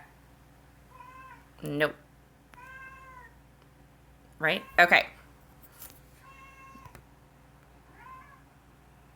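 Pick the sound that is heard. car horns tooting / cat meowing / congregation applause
cat meowing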